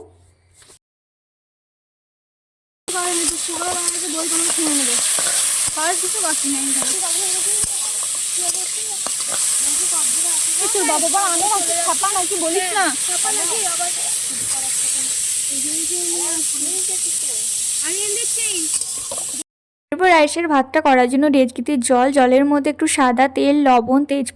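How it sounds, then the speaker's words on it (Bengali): Cashews and raisins fry in ghee at a picnic cook-up, giving a loud, steady sizzling hiss that runs for about sixteen seconds. A voice is heard over it throughout. "কাজু কিশমিশটা এখন আমি ঘিয়ের মধ্যে ভেজে নেবো"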